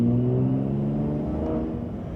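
Ram RHO pickup truck engine revving under throttle, a steady loud close-up rumble with strong low harmonics that swells slightly, then eases toward the end, with no voices.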